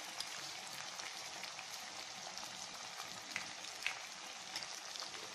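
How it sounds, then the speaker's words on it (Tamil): Onions and tomatoes with salt and turmeric sautéing in oil in a pan for eggplant curry, a steady dense sizzle with occasional louder pops, no talking. "வெங்காயம் தக்காளி நல்லா வதங்கட்டும்."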